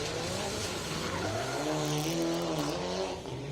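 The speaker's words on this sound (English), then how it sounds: "just taking things ever so wide and deciding against using the handbrake for the hairpin here" Mitsubishi Evo 9 rally car taking an asphalt hairpin, its engine droning and shifting pitch up and down with audible tyre scrub, loud and close throughout.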